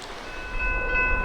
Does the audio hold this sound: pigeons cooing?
no